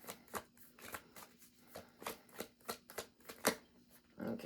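Tarot cards shuffled in quick irregular bursts, crisp riffling flutters and soft slaps repeating close by at low level, with no voices.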